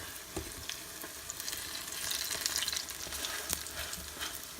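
Banana fritters fry in a pan with a steady, gentle sizzle and crackle, with occasional sharper pops and light scraping as they are turned and pressed.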